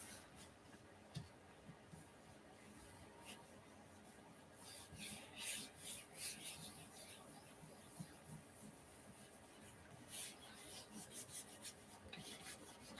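Soft, scratchy rubbing across the edges of a mono-print, faint at first and then building into uneven strokes and brushy swipes, close by and quiet, with no talk.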